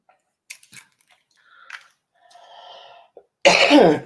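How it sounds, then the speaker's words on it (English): A few faint clicks and small rustles, then one loud, harsh cough close by near the end. "I've just got this bad cough that won't leave me alone."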